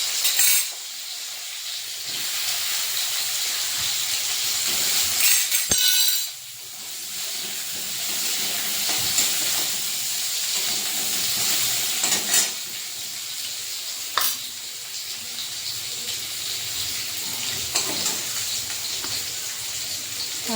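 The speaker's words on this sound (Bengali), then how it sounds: "এরপর অল্প আবার সর্ষের তেল দিয়ে দিলাম। কেটে রাখা আলুগুলো দিয়ে দিচ্ছি।" Cut potatoes sizzle in hot mustard oil as they are stirred for a pointed gourd curry, giving a steady close hiss with occasional scrapes and clatter from the spoon.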